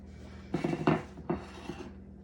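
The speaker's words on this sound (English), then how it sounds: "I'm gonna put this one in the oven" A metal baking pan for pumpkin bread clanks as it slides into a home oven, with a few sharp metallic knocks and scrapes in two short bursts over faint background hum.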